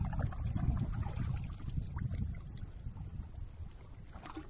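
A new inflatable rubber boat setting out on water, with soft splashing and low rumbling water noise close to the microphone, steady and fairly quiet throughout.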